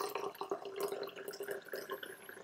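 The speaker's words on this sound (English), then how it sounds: "as soon as the water goes in, it's ready to come out" Hot water is poured into a kyusu teapot over fukamushi sencha leaves, a faint, continuous trickling splash lasting a couple of seconds.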